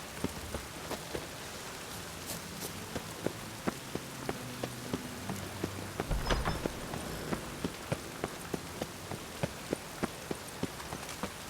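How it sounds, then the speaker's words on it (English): Steady rain falling in The Witcher 3, a continuous patter with scattered sharp drops ticking in a regular pattern, a faint low rumble around the middle, no voices. "I like rain. Keeps the roads indoors."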